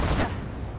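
Gunfire aimed at wrecks in Cyberpunk 2077: a single brief, dense burst of shots with a rumbling boom that quickly fades, close and fairly loud.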